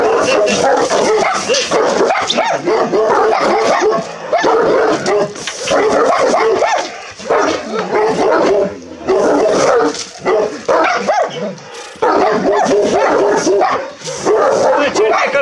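A Bucovina shepherd dog barks and yips loudly and close in repeated bursts with short pauses between them, while people talk excitedly over and between the barks.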